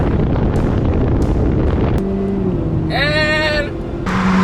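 Two 1500cc turbocharged cars, a 10th-generation Honda Civic Turbo FK4 and an HR-V RS, accelerating in a drag race, with steady engine drone, heavy wind rush and a rising whine, loud and close.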